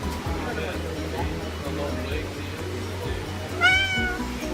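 Short, rising meows from a cat shut in a crate, heard near the end over a steady low hum and an adult voice talking gently to the animal.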